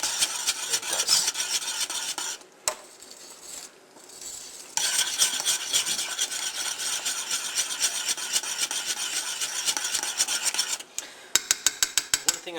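Cocoa powder being stirred into a liquid for chocolate haystacks, a close, continuous scraping and rasping of a utensil against the pot, broken by two short pauses and ending in a run of quick taps.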